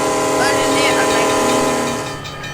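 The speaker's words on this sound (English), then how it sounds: "I like all these train horns." A train horn blares in the Trainz railroad simulator, a loud sustained chord held steady for about two seconds before trailing off, with a voice talking over it.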